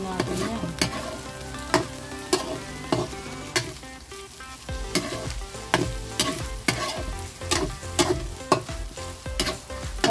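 Ground meat for spaghetti sizzles loudly in a pan while a utensil scrapes and stirs it in repeated, rhythmic strokes, close up and without talk.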